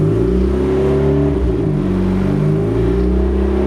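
A turbocharged Miata engine revs and then holds steady around 2,500 RPM, a loud, close, continuous droning rumble with layered harmonics that dip briefly before settling back.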